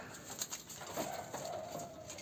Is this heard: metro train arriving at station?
no